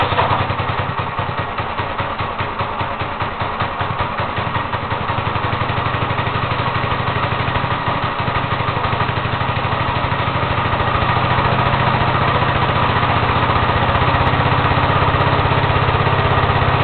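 Small Green Machine gas engine, choke pulled, runs steadily with a loud, continuous buzzing drone and rattling clatter, slightly rougher at first and then settling into an even idle throughout.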